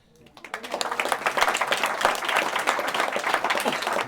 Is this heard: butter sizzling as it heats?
no